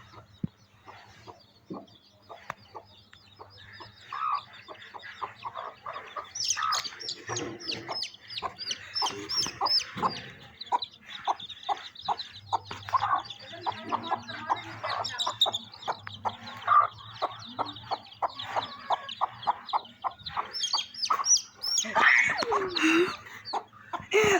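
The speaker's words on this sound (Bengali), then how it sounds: "আমি এখন মুরগির বাচ্চা ধরবো" Village chickens cluck and squawk close by as chicks are being caught, busy bursts of repeated clucks rising and falling over about twenty seconds, with rustling movement and no talk.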